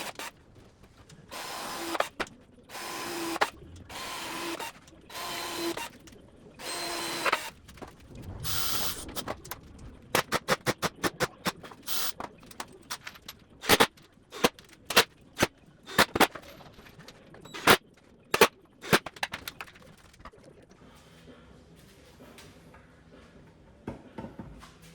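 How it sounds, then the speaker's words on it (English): A power drill drives screws into outdoor kitchen table cabinet doors in a string of short, sharp bursts, with longer whirring runs early on and then many quick, close, loud pulses separated by silent gaps. "there's quite a bit of screws that I need to screw here"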